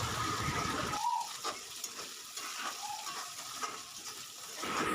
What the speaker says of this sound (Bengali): তারপরে দেখো আমি একটুখানি জিরে ফোড়ন দিয়ে দিলাম, আর একটু পেঁয়াজ, একটু দুটো চেরা কাঁচা লঙ্কা দিয়ে এটাকে ভালো করে এখন আমি নাড়াচাড়া দিয়ে লাল লাল করে নেব